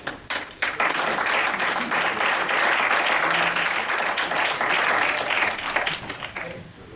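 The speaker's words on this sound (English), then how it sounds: "Fallon really deserves a huge applause from this class" Sustained applause from a class audience at a university Q&A session, dense clapping that starts with a few scattered claps, swells quickly and holds steady for several seconds before beginning to thin out.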